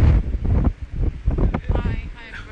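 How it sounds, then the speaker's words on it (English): Gusty wind on Southport pier buffets the microphone in uneven bursts, loud and close, with a voice faintly underneath. "But it's not cold, is it? It's just like the wind isn't cold."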